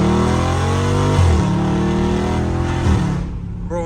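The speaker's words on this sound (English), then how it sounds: "I'm gonna give y'all a first gear pull" A Dodge Charger Scat Pack pulls hard in first gear, its loud engine roaring and rising in pitch close by, with two brief dips where the revs settle before it climbs again, then the roar drops away at the end.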